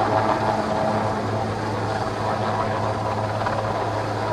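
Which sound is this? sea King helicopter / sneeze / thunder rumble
sea King helicopter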